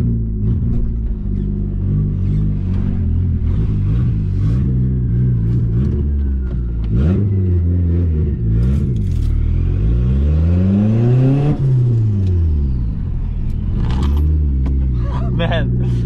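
A car with bled, barely working brakes accelerates hard, its engine rising and falling in loud sweeping revs close by, with voices talking over it throughout.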